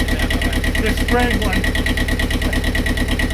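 A Universal Diesel 5411 sailboat engine runs steadily with a continuous low, even idle throb, close and fairly loud, with people talking over it.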